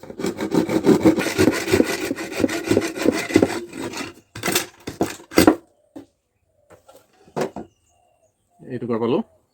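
Bamboo being sawn straight across to make a pepa horn: fast, rhythmic rasping strokes close by, then a few separate scrapes and knocks, with a bird calling briefly near the end.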